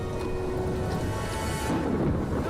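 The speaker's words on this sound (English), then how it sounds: "As the town gets hit by the heaviest rainfall in its history" Heavy rain pours down steadily during a record downpour over a town beside a dam reservoir, with a low rumble of thunder rolling underneath throughout.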